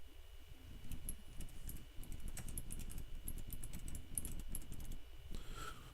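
Steady typing on a Razer Chroma keyboard, quick dense keystrokes clattering continuously and close up, with faint game sounds underneath.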